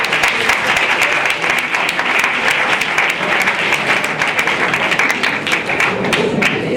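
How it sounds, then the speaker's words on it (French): Sustained audience applause for prize-winning candidates at a French-language event, dense, even clapping filling the whole stretch without a break. "Je vous demande de les applaudir."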